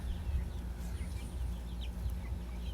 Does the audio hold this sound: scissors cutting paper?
no